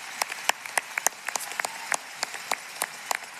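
A commencement audience claps for student athletes, with scattered individual claps popping in a loose, irregular rhythm over a soft wash of applause, moderately distant.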